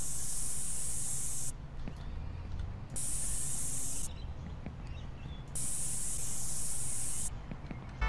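Spray paint hisses in the video game Bully, coming in three long steady bursts with short pauses between them. It is close and loud, with no voices.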